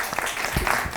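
A studio audience claps in a short, dense burst of applause heard close up.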